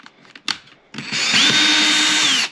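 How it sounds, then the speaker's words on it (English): A power drill bores a single short hole into a wall for a guitar wall mount, a loud steady whine lasting about a second and a half after a few faint handling knocks. "Drill one hole just a little bit so I could know where to go."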